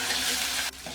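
Chopped onion, green chili and ginger hit hot oil that already holds ginger garlic paste, giving a loud, steady, close sizzle that cuts off sharply near the end, with no voices.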